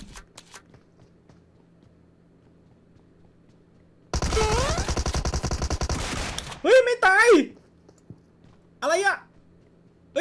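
Rapid bursts of gunfire in the mobile battle royale game PUBG Mobile, a dense loud stretch of shots lasting about two seconds, followed by a few shorter sharp bursts with gaps of quiet between.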